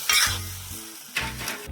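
Leeks tossed into a stir-fry pan with asparagus give short bursts of sizzling hiss, paired with low scraping stir strokes in a quick, uneven rhythm.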